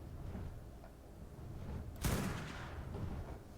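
A single sharp tranquilizer rifle shot in ARK Survival Evolved cuts in partway through, a sudden crack that trails off over quiet background game ambience.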